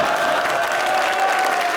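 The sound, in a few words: studio audience applause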